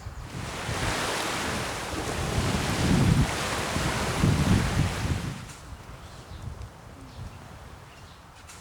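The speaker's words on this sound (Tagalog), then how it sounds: "Ang sarap talaga ng hangin dito" Wind gusts rushing loudly across the microphone with a surf-like roar, easing off into a quieter breezy hiss toward the end.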